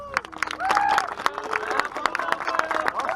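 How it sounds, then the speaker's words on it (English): A burst of clapping and applause from a group, with sharp claps scattered under a person speaking over it. "Round of applause."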